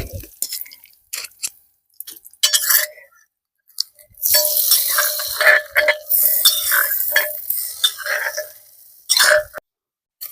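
Jackfruit curry being stirred in a clay pot, a run of scraping, clattering stirs with wet, sizzling texture, sparse at first and then dense and continuous for several seconds before trailing off.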